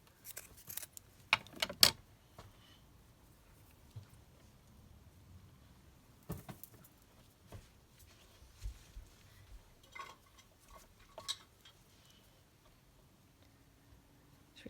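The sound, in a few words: scissors snipping off lace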